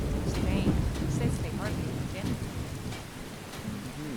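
Rain falling in Skyrim's village of Riverwood, a steady patter with distant rumbling underneath, heard beneath voices talking throughout.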